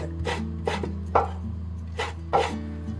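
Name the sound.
knife slicing pork belly into thin strips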